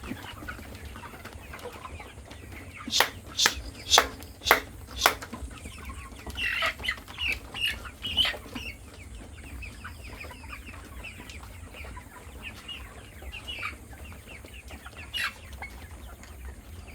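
Broiler chickens on a farm cluck and squawk in a run of sharp calls, then scattered clucking continues over a low, steady indoor hum.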